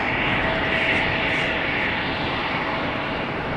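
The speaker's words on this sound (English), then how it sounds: "The Embraer coming this way." An Embraer jet taxiing at Amsterdam Schiphol gives a steady, even engine whine and hiss, fairly distant and moderate in level, unbroken and without talk.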